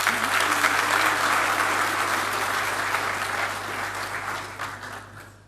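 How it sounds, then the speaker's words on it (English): A large audience at a Ghana CEO business summit applauds steadily, a thick wash of clapping that holds strong and then gradually thins toward the end, with no voices over it. "A round of applause for them, please."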